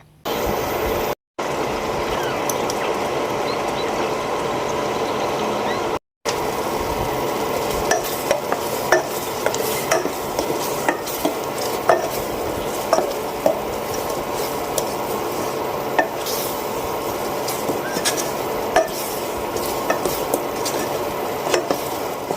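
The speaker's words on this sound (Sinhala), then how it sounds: "අඹ ටික අර පේස්ට් එකත් එක්ක හොඳට මෙහෙම ඉදෙද්දී" A spoon scrapes and stirs mango chutney mixed with spice paste in a pan, a continuous gritty sizzle broken by frequent soft clicks and knocks, with no one speaking.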